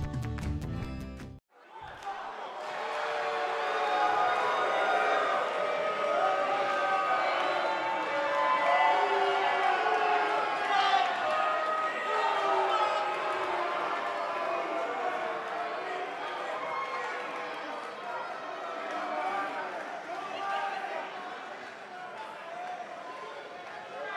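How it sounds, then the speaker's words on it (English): A wrestling arena crowd in the video game WWE 2K19 roars in a dense, sustained wash of cheering and shouting that swells after a brief cut near the start and stays loud throughout. "And Michael, it sounds to me like this crowd already picked the one who they want to win this match"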